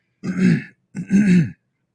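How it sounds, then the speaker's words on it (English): Two loud, rough throat clears close up, one after the other with a short pause between them. "Clear my throat a little bit."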